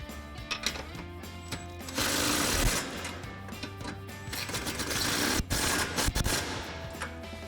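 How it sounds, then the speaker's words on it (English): An impact wrench with a 13mm socket tightens the upper bracket bolts of Sidewinder running boards on a 2010-2023 RAM 2500. It gives loud, rapid rattling hammer bursts, with two longer runs separated by quieter gaps over a steady tonal background. "we'll grab our 13mm socket on our impact and begin with our upper main bracket mounting"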